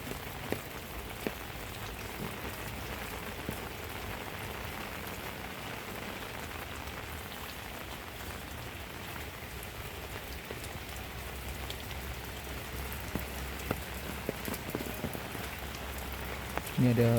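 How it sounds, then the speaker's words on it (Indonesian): Heavy afternoon rain falls in the countryside, a dense, steady hiss of drops on surfaces lasting throughout with occasional louder splats, moderately close. "Coba aja sahabat hujannya sahabat di sore hari sahabat."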